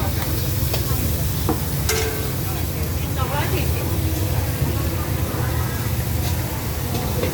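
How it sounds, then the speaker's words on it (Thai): Squid being stir-fried hot at a busy morning seafood market stall, a loud continuous sizzle and clanking of the pan under crowd noise and nearby voices. "ตอนนี้ก็กำลังผัดร้อนๆเลยค่ะปลาหมึก"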